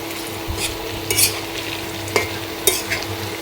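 Potatoes frying in very hot oil with a loud, steady sizzle, broken by several sharp scraping stirs of a spatula against the pan; no talking.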